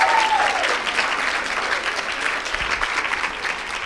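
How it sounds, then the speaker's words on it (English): Audience applause for little kids after a Republic Day cultural program at a mandir in Parsippany, a full steady crowd clapping that continues evenly for several seconds, with a faint whistle-like tone at the start. "Let's give one more round of applause to all these little kids over here."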